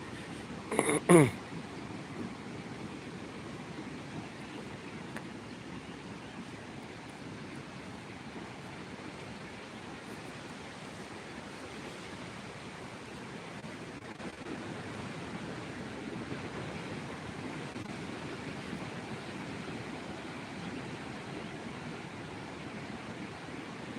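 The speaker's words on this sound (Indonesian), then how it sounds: "Ini suasana pantai jam 7 pagi ya." Early-morning beach ambience at Cemara Leupung beach in Aceh Besar, a soft continuous wash of distant surf and light wind, low and even for the whole stretch after a brief handling bump at the start.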